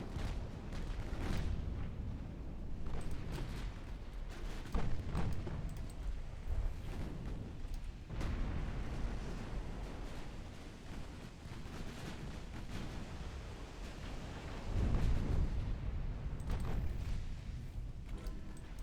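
Naval gunfire in a battle in Ultimate Admiral Dreadnoughts, with a battlecruiser under fire: rumbling booms and muffled blasts rolling on in a continuous low roar, heavier bursts rising now and then.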